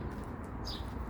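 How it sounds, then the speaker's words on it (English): Birds in an alder tree coo and call faintly outdoors, soft and distant against a steady background rumble, one brief call standing out. "there's lots of birds up here in the alder tree"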